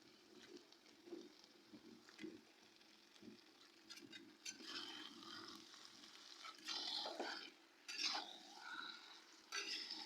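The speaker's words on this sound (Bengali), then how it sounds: "চিকেনটা দিয়েও খুব ভালো মতো কষিয়ে নিতে হবে।" Chicken pieces frying with potatoes in a pan, a soft sizzle under faint scraping and stirring that grows more active with sharper metallic clatters toward the end.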